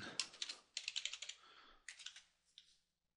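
Computer keyboard typing while a status path in project management software is renamed: quiet, close key clicks in three quick bursts, alone with no talking.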